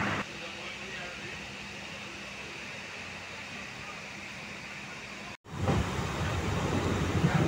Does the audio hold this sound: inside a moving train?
yes